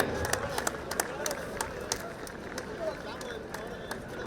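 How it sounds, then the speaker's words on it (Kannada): A crowd at a state police sports meet claps loudly, with sharp individual hand claps scattered over a general murmur of voices and applause, close and sustained. "ಜೋರಾದ ಚಪ್ಪಾಳೆ."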